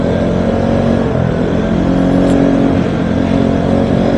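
A Vespa Sprint scooter's engine drones steadily while being ridden, loud and close with constant road and wind rumble and no talking.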